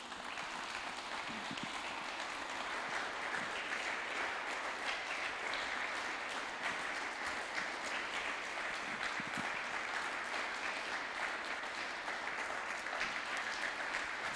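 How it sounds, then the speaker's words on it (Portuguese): Congregation clapping during a Sunday evening church service, a steady even wash of many hands heard at moderate distance, continuing unbroken and without talk. "Uma salva de palmas para Jesus."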